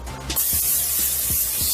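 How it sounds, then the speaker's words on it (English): A can of olive oil cooking spray hisses loudly in a long, sharp, continuous burst, with a few soft clicks and knocks underneath. "you're going to take some olive oil cooking spray"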